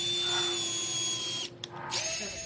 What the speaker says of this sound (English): So we're drilling in our screws.